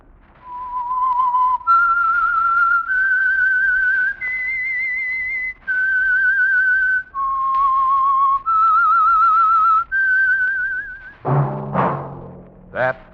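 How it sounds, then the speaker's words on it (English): A melodic whistled tune serving as the signal for the Signal Oil radio program The Whistler, a clear solo line of sustained notes stepping up and down, followed by a brief burst of orchestral or noisy sound at the end. "That whistle is your signal for the signal oil program, the Whistler."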